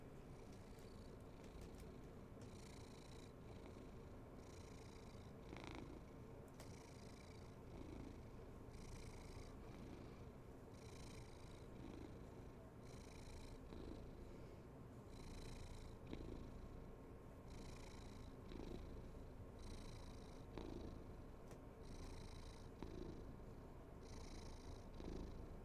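A white cat purrs steadily and close for the whole stretch, a continuous rhythmic rumble with regular breathing pulses and no talk over it.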